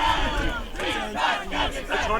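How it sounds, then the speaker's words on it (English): Edmonton Aurors players shouting their team cheer in rhythmic bursts of several voices, loud and close, with crowd noise around them. "That's their cheer happening right now."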